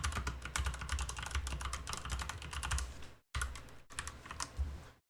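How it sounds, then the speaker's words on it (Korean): Rapid close clatter of typing on a computer keyboard while entering Unity code, a dense run of key presses broken by two brief pauses, no talking. "실행될 코드를 넣겠습니다."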